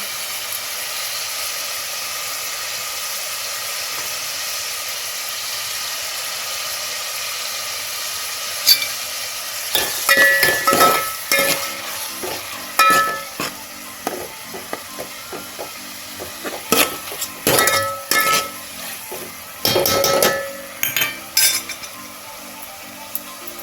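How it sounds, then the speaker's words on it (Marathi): Soaked dried shrimp roasting in a hot pan for a spicy Marathi-style dried shrimp curry, giving a steady close sizzle throughout, then repeated scraping and clinking stirring strokes joining in from about ten seconds. "बरे भाजून घेऊया त्याच्यातच आम्ही ही भिजलेली सुंगटा घालूया"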